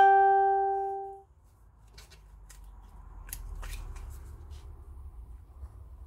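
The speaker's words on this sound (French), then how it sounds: "Allez, hop, on coupe. Je coupe à ras, je m'embête pas." Scissors snip through paper for a pen pot craft in a few quick, soft cuts close by, following a short tone, in a quiet room.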